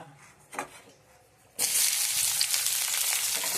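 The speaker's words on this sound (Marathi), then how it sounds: "आपला कांदा परततच आहे" Onion frying in hot oil in a kadhai starts as a soft background hiss with a faint clatter, then jumps to a loud, dense, close sizzle that holds steady to the end.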